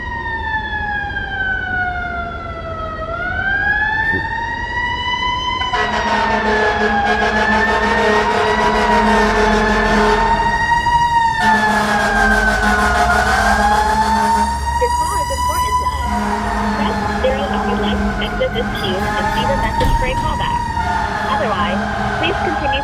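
A fire engine siren wails loud and steady throughout, its rising and falling tone sweeping up and down with a deeper horn-like drone underneath, close and dominant for the whole stretch.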